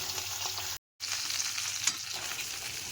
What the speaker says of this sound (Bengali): এখন মাছগুলোকে আমি উল্টে দিলাম আবার